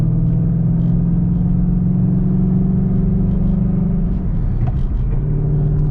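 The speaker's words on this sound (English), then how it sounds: "I just really like the sound of this car with this setup" A VMP supercharged 2013 Ford Mustang GT V8 idles and runs with a deep, steady exhaust rumble, loud and close, shifting slightly in pitch near the end.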